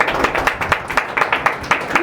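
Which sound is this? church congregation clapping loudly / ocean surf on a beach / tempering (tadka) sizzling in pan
church congregation clapping loudly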